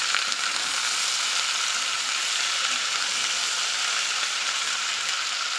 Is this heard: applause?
no